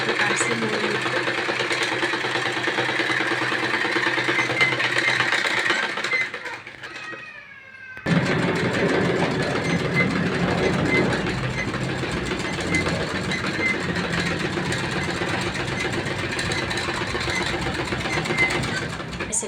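Electric sewing machine stitching a seam along the neckline of a women's suit, running steadily and close, with a short pause partway through before it resumes.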